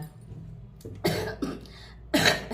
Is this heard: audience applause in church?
no